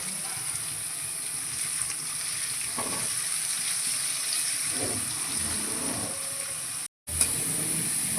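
Garlic, chopped ginger and cumin fry in a pan with a constant close sizzle, with occasional light stirring scrapes and a brief gap near the end.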